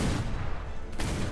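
Cannon fire in the pirate sailing game Atlas, heard as dense low-frequency booming that rolls through the whole short clip, loud and sustained like a volley of shots, with no voices over it.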